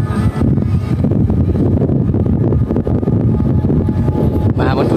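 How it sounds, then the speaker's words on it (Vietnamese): Strong wind roars steadily into the microphone at a kite-flying field in District 12, a dense continuous buffeting rumble that fills the whole stretch with only brief dips. "chiều nay gió lớn quá"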